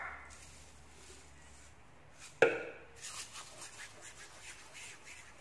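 Dried thyme crushed between the palms over a simmering meat tagine gives a soft, crumbly rustle that follows a single sharp knock, close and quiet, with no one talking.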